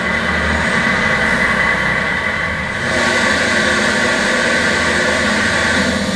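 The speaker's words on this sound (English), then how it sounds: "tractor trailer loads a day of wood, and here's one coming in right now." A tractor trailer loaded with wood rolls in, a loud, continuous heavy rumble with a brief dip midway before the engine drone swells again close by. No one speaks.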